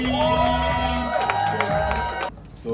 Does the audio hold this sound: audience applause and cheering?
yes